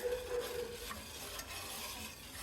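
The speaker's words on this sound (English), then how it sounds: "I'm going to stir those into that flour and sugar mixture" A spoon stirs a mixture into flour and sugar in a pan for banana pudding, giving a soft continuous scraping and swishing close by, quiet and unbroken by speech.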